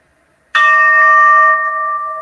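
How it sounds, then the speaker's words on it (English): A meditation bell struck once at a morning meditation and yoga practice, ringing out with a bright clear tone and a long sustained shimmer that slowly fades, heard alone. "Please begin with the sound of the bell."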